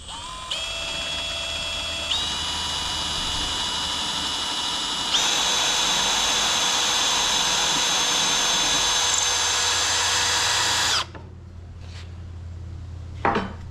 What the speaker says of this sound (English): I'm just running through a 1/4 inch bit just to get a pilot hole going.